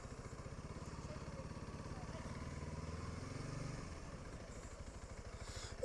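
A Honda CRF300L motorcycle rolls in to park, its single-cylinder engine putting out a steady low chugging thrum up close, easing off slightly near the end.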